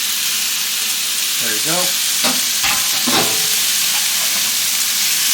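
Shrimp for spicy butter shrimp sizzle in a hot pan and get tossed, with a bright, constant frying hiss and a few scraping, clattering stirs up close; a voice speaks briefly.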